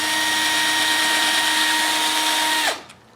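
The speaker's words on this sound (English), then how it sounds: "I'm just going to drill a hole right here in about the center of that platform." A small power drill whirs steadily while boring a hole into the wooden platform of a carved bust, a close, loud, even whine that winds down sharply near the end.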